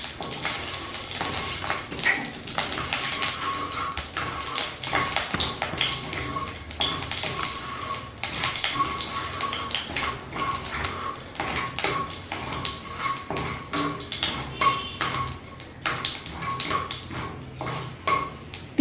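Mustard seeds and a dried red chili fry in hot oil, producing a continuous spitting sizzle with dense crackling and irregular sharp pops, close and moderately loud.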